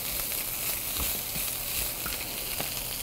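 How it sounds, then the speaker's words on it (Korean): Rice cooked with seasoned greens in a Japanese-style pot sizzles over the flame, a steady close crackling hiss with scattered small pops. "이렇게 지글지글 소리 나죠?"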